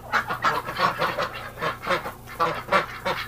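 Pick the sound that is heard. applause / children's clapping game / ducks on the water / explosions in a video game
ducks on the water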